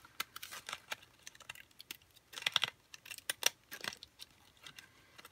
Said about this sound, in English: I'm just going to come down with my pinking shears.